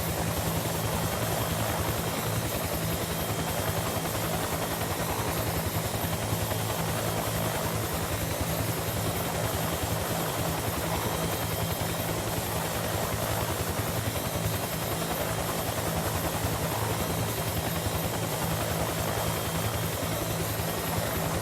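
Huey helicopter engine and rotor in the DCS flight sim game give a loud, unbroken roar with steady rotor thump that holds constant throughout, with no voices.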